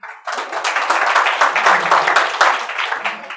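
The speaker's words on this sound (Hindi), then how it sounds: "अगर आपको कविता पसंद आए तो दिल खोलकर तालियां बजाइएगा" Audience applause at an open mic poetry event, a dense burst of clapping rising quickly and holding steady and fairly loud, with a few voices mixed in.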